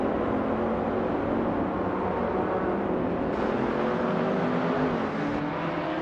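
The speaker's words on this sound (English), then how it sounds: "Amy is starting in pole position behind the wheel of a 2016 ADS-N3 Nissan in the LMP3 class" A 2016 ADS-N3 Nissan LMP3 race car engine in a video game drones loudly and steadily. The pitch rises and shifts as it revs, with other cars whirring nearby.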